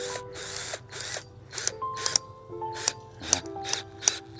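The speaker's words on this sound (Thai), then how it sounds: "เราก็ใช้สว่านไฟฟ้าแบบเนี้ย มีใส่หัวบล็อกนี้มา" An electric drill fitted with a socket bit whirs in repeated short bursts, tightening a guava trellis, each followed by a pause and a faint clicking, close up with mechanical rattles in between.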